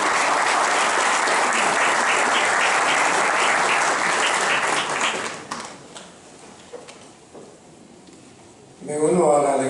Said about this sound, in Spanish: ¿Qué tal si le damos un aplauso al doctor?